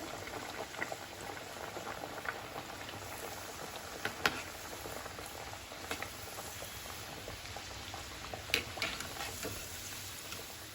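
Bedmi puris frying in hot oil in a Mathura halwai-style kitchen, a steady bubbling seethe with scattered sharper pops and crackles throughout, close and continuous with no voices.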